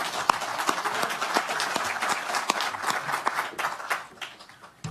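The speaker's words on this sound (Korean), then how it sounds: "박수 한번 크게 보내주십시오" Applause from party members and lawmakers gathered at a joint debate session, a dense wash of many hands clapping at a steady level, then thinning and fading out toward the end.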